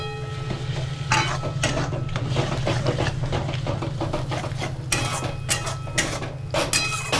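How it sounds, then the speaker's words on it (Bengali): Fried prawns drop into spiced oil in a pan while making pointed gourd with prawns, with metallic clatters and scraping of a spoon against the pan over a steady low sizzling hum. "এরপর আমি এর মধ্যে এই চিংড়ি মাছটা ভেজে রেখেছিলাম সেটা আমি এর মধ্যে দিয়ে দিচ্ছি"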